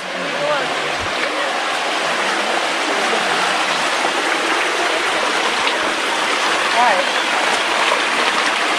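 Steady, dense rushing of falling water fills the scene, a continuous roar with no break, loud and close.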